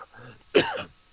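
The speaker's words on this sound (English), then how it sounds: "Apologize for my cough" A single short cough with a throat-clearing rasp, close and fairly loud, preceded by a soft breath and followed by quiet.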